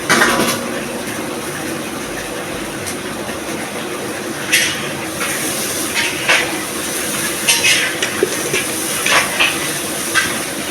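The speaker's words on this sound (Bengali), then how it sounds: "এখানে পটল ভাজা হচ্ছে" Pointed gourd sizzles steadily as it fries in a pan in a home kitchen, with a few sharp clinks of utensils on top.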